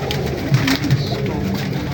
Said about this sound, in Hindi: ये चौधरी साहब वाले कबूतरों में से है